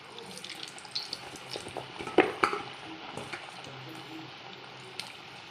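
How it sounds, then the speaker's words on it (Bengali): Thekua dough balls fry in hot oil in a wok for a Chhath Puja sweet, giving a soft, steady bubbling and crackle with a few brief clinks and splashes from pieces being added. "এবার আমি একটা একটা করে ঠেকুয়াগুলো গরম তেলে ছাড়বো"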